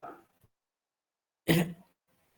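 A single short cough or throat clearing, close and fairly loud, following a brief murmur, then quiet.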